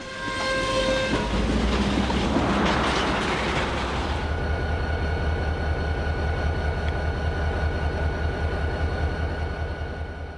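A CSX freight train led by locomotive 6914, built in 1980 as Chesapeake and Ohio 4411, passes on the Cartersville subdivision. A brief horn blast opens, then a loud, steady rumble of rolling cars and wheel clatter continues close by.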